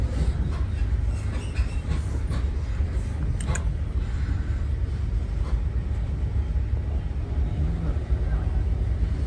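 Interior of a GWR High Speed Train running on single track as it nears the Royal Albert Bridge: a steady, loud low rumble of the carriage with faint wheel clicks and a brief squeal midway, heard alone throughout.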